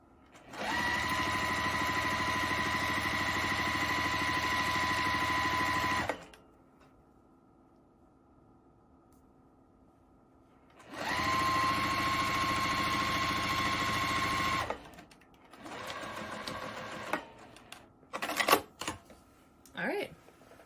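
A sewing machine stitches baby quilt strips in two steady, close whirring bursts separated by a quiet gap, followed by some handling noises at the end.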